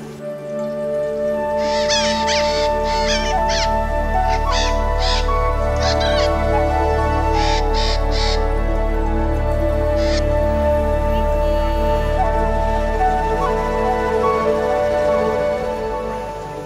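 Birds calling at a bird park in Foz do Iguaçu, with repeated harsh squawks in short bursts over a steady low background hum, moderately near.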